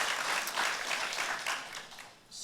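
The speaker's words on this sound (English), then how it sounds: "So everyone, please join me applauding our panelists and moderators." An audience at a university panel event applauds the panelists and moderators, a dense burst of many hands clapping that tapers off toward the end.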